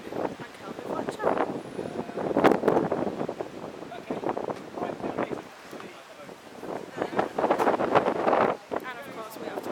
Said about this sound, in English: It's a nice day, but it's really windy